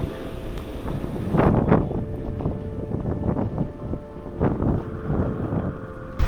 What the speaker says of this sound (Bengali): এখানে প্রচণ্ড বাতাস।